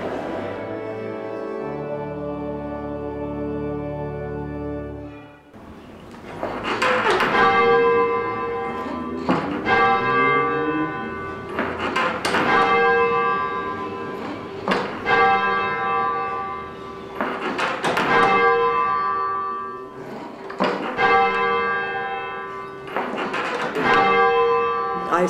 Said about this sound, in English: I see bell ringing as a very important part of the worship of the church